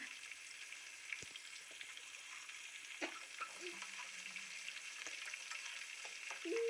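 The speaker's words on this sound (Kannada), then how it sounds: "ಸ್ವಲ್ಪ ಕಲರ್ ಚೇಂಜ್ ಆಗಬೇಕು ಈರುಳ್ಳಿ ಆ ಥರ ಫ್ರೈ ಮಾಡ್ಕೊಳ್ಳಿ" Chopped onions and green chillies fry in a pan for a tamarind rice dish, giving a steady close sizzle with occasional soft stirring clicks and scrapes throughout.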